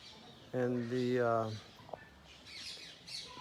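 A single drawn-out bird call, likely a parrot or pigeon, rings out from tall trees at a feeding spot in Radhatila, fairly faint and distant over quiet outdoor background with a few small sounds after.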